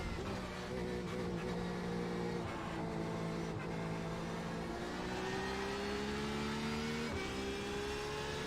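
IMSA race cars circle Circuit de Barcelona-Catalunya in the iRacing sim, their engines holding a loud, steady drone with gently rising and shifting pitch as they run continuously, no voices.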